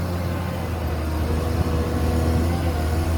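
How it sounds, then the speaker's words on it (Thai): Heavy diesel engine of a Liebherr 920 tracked excavator, Cummins-powered, digging a reservoir, drones loudly and continuously up close, a deep steady roar with faint mechanical clatter over it. "เครื่องยนต์กระหึ่มทีเดียวครับ"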